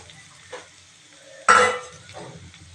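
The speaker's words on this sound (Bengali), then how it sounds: "এর মধ্যে দিয়ে দিচ্ছি টমেটো কুচি," Chopped tomatoes dropped into a pan of lightly fried onions in hot oil give a sudden loud sizzle burst, with soft stirring and utensil clinks before and after.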